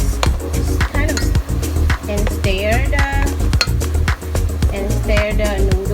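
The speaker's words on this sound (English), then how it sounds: "stir the noodles until these separated" Noodles being stirred in a pan with clinks and scrapes of a utensil, busy and close, over a steady cooking hiss and background music.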